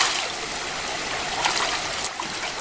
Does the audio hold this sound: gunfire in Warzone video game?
no